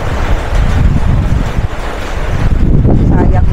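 Strong wind roars and buffets the microphone loudly and continuously, a dense low rumble with no clear pauses, at a campsite in rainy weather.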